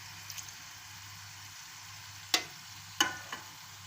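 Mutton frying in a pot with lemon juice just added gives a soft, steady sizzle, broken by two sharp clinks near the end.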